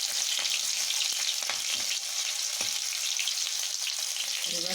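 Three green chillies fry in hot oil in a pan for a vegetarian spinach-stem chorchori, producing a dense, continuous, close sizzling hiss with faint crackles throughout.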